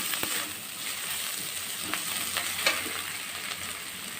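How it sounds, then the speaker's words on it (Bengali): Spice masala sautéing in a pan over a medium gas flame, a steady broadband sizzle with a few soft spoon scrapes and taps scattered through, close and continuous, no voices. "গ্যাসের আঁচ মিডিয়ামে রেখে এই মশলাটা কষাতে হবে।"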